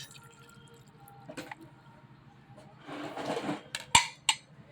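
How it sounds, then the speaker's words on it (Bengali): Lemon juice poured over grated ginger in a bowl while making ginger mukh shuddhi, a soft wet splashing and dribbling followed by a couple of crisp dripping taps against the bowl, close and quiet. "এবার দিয়ে দিচ্ছি লেবুর রস"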